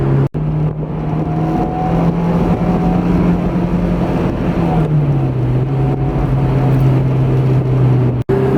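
A Honda S2000 engine revving hard and loud, a sustained droning tone that holds high and then drops in pitch as the rpm falls, with a brief cut near the start and near the end.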